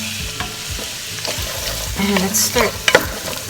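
Onions, carrots and celery fry in olive oil for a ragù, a steady near sizzle with scraping stirs and clinks, while a voice speaks briefly over it.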